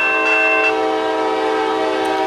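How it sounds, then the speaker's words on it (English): A train horn blares loud and close at Fostoria Railfest, holding one steady chord for the whole stretch. It is sustained with no break and has no talking over it. "who wants to see that train?"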